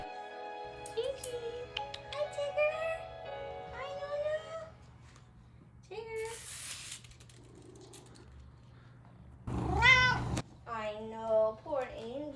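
A 16-year-old cat meows several times in a quiet indoor room, with drawn-out, rising and falling cries spaced by pauses and a faint steady hum underneath; a nearby voice talks between the meows.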